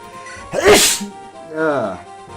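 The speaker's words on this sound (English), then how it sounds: "I just sneezed on myself" A person lets out a single sharp, loud sneeze close up, followed by a brief voiced sound afterward.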